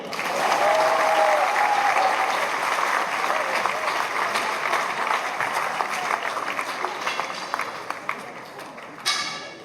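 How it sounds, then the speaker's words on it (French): A crowd claps steadily throughout, loud at first and gradually thinning, with a brief sharp noise right at the end, at a festive evening gathering in Lourdes. "Merci, vous pouvez vous applaudir."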